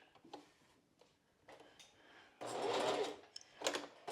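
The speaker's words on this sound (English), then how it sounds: "we are also going to sew across this top of the bridge section" A sewing machine stitching across the top of a strapless bra's bridge section in short bursts, with small clicks before a sustained whirring run of stitches and quick bursts after.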